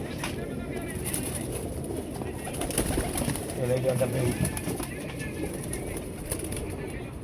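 A pigeon coos softly among other pigeons in a loft, low throaty calls in the background while someone talks nearby.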